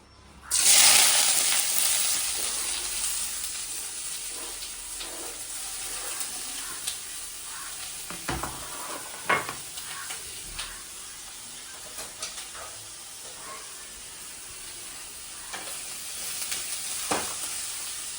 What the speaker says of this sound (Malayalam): ചട്ടി നല്ല ചൂടായിക്കണം. നമുക്ക് അതിലേക്ക് ഉള്ളി ഇട്ട് വെക്കാം.